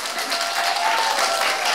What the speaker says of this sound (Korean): 큰 박수와 환호로